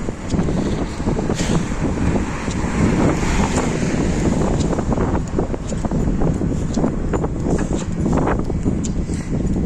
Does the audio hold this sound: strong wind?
yes